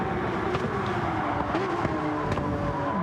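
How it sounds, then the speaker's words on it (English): Porsche GT3 race car engine in a sim racing game, a loud sustained high-revving drone held near, with pitch shifts and brief gear-change blips across the lap. "absolutely ringing the Porsche out on this lap"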